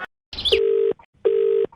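Telephone keypad tones: a short burst of noise, then two steady electronic beeps of equal length separated by a brief gap, loud and clear as the hash key is pressed on a phone.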